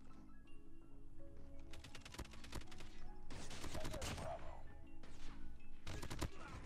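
Bursts of LK-LMG light machine gun fire in the mobile shooter Call of Duty Mobile, with clusters of sharp rapid shots around two, three to four and six seconds over steady game background noise and faint talk.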